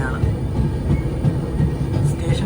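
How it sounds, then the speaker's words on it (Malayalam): Low rumble and rhythmic wheel thuds of a train pulling into Vadodara Junction platform, steady and fairly loud, with a faint voice in the background. "ട്രെയിൻ ഇതാ വഡോദര ജംഗ്ഷനിലേക്ക് എത്തുകയാണ്"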